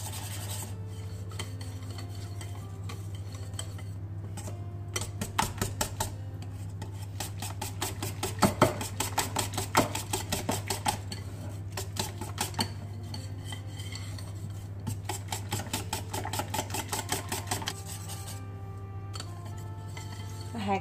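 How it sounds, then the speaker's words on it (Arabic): A whisk or spoon scrapes and rasps rhythmically against a bowl while mixing a flour-based crêpe batter, fast steady strokes with clinking accents and a steady low hum underneath. "Et maintenant, je mélange bien."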